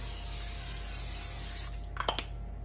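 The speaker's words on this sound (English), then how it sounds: "Just going to give this chicken a little spray of olive oil." A long, steady hiss of an olive oil sprayer close by, spraying chicken, ending with a few short spurts.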